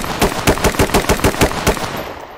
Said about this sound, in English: Fucking hell, shots fired.